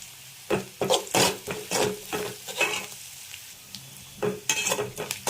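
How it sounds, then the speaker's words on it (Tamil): Onions sauté in a pan with pepper and turmeric for a carrot and beans dish, a light sizzle under rapid, rhythmic spatula strokes scraping the pan, close and clear with no talking. "ஆனியன் நல்லா வதங்கியாச்சு."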